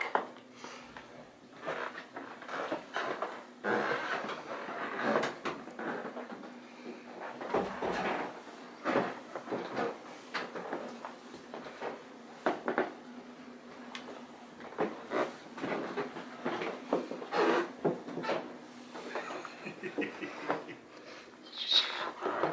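Old floorboards and doors creak in a historic hotel, a string of scattered creaks, knocks and shuffling footsteps over about twenty seconds against a faint steady hum, moderately close, with no clear talking.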